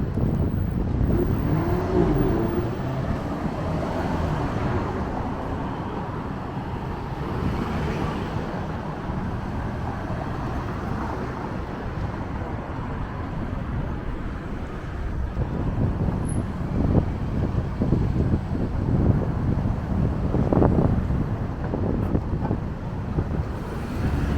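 Steady wind buffets the microphone over a constant rumble of Toronto city traffic near College Park, cars passing continuously at moderate distance.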